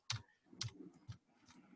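Three or four quiet, separate key taps on a computer keyboard while entering a number in accounting software, spaced about half a second apart.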